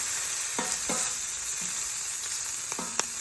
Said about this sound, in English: Want to get this bacon somewhat crispy.